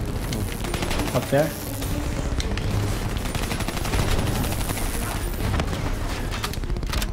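Heavy sustained gunfire and explosions from the Call of Duty Black Ops 3 campaign play loud and continuous throughout, with a player briefly talking over the din.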